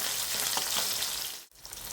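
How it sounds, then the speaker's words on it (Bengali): Koi fish lightly frying in hot oil in a pan, a steady bright hiss and sizzle with a few soft crackles, close up, briefly cutting out near the end before resuming. "তেলকই করার জন্য খুব বেশি মাছগুলো ভাজার দরকার নেই, হালকা ভাজলেই হবে"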